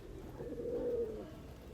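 Andhra pigeons kept for sale give a single soft, low coo, close but faint, rising and fading over about a second against quiet background noise.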